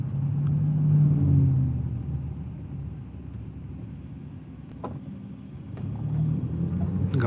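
A car passes on a road, its low engine rumble and tyre roar swelling, fading, then building again as another vehicle nears, heard at moderate distance without speech.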